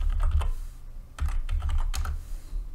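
Fingers type on a computer keyboard in a quick, close burst of clicky keystrokes, pausing briefly between short runs of presses, with no one talking.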